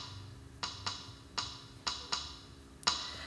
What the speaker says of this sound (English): if we wanted to make a 3/4 polyrhythm, we could add a ring of 3.